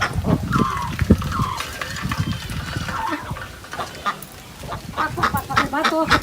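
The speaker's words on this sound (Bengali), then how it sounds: "বলছি নাকি অন্তিকা হাঁসের খাওয়া শেষ না?" Village ducks in rainy-season Bangladesh let out scattered quacks and squawks at close range. The calls are brief and uneven, with a few stronger ones near the start and again toward the end, among steady ambient noise.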